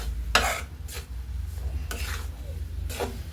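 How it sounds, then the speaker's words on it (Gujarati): Adadiya mixture stirred in a pan until brown, with a ladle scraping the pan in several distinct strokes over a low, constant sizzle, close and fairly loud, no voices. "બ્રાઉન કલરનું મતલબ રેડ આપણે ગુજરાતીમાં લાલ ને ઇંગ્લિશમાં બ્રાઉન કલરનું થાય નહીં ત્યાં સુધી હલાવી જ રાખવાનું"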